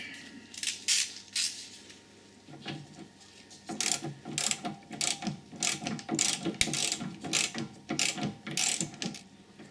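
Rapid ratchet clicking as a nut is threaded onto a front anti-roll bar link on an Audi or VW car, close and busy, repeated strokes over faint background hum, no voices.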